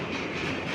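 A Howrah-bound passenger train hauled by a WAP4 electric locomotive passes close at Dusi railway station, the wagons giving a loud, continuous rolling rumble.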